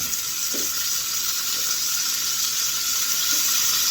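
Steak alongside peppers and onions fries in a pan on the stove, a steady broadband sizzle holding for the whole stretch, with a few faint clinks beneath it and no one talking.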